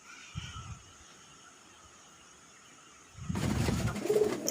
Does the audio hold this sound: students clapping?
no